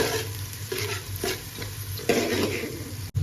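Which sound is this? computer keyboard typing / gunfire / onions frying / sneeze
onions frying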